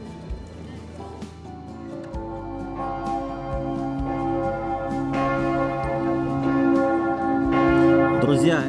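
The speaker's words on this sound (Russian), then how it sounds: "этот колокольный звон в честь победы Венгрии над турецкими войсками в 1456 года" Church bells in Budapest, rung to mark Hungary's 1456 victory over Turkish forces, peal in overlapping strokes with a rich, sustained resonance that builds in loudness over several seconds.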